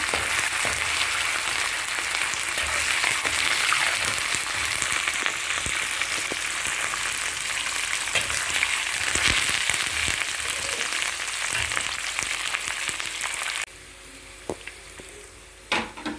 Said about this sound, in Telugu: ఇప్పుడు కరివేపాకు పచ్చిమిర్చి ముక్కలు కూడా వేసేయండి ఉప్పు కూడా బాగా వేగనివ్వాలి